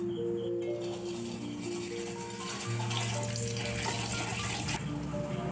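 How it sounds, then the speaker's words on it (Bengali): Curry leaves frying in oil after a batch of flattened rice, a soft continuous sizzle near the pan with some faint tonal background hum and no voices. "চিড়ে ভাজা হয়ে গেলে অল্প কিছু কারি পাতায় তেলের মধ্যে ভেজে নিতে হবে"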